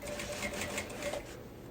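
Sewing machine stitching close along the edge of a zipper set into fabric for an insulated boombox-shaped pouch, a quiet, fast, even mechanical patter running alone throughout.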